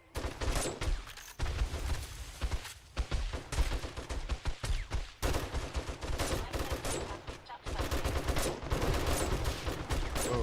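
Rapid, dense gunfire and explosive rocket blasts rattle on almost continuously in 7 Days to Die, a loud, close firefight against charging mobs at a winter base with only brief pauses.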